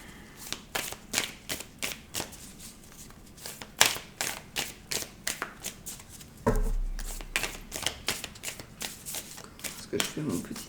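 Tarot cards are shuffled close up in quick rhythmic riffling bursts, a louder run partway through, while a voice talks quietly.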